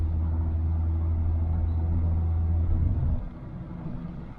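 A small used car with an automatic gearbox drives along at an easy pace, a steady low engine and road rumble that eases off slightly near the end, with no talking.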